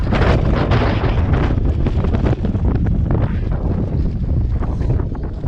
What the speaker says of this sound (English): Hold your camera steady in the wind.